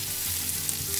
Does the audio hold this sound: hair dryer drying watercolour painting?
no